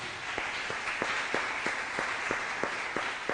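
A congregation claps together in a steady rhythm of about three beats per second, each clap crisp and fairly near over a soft background murmur.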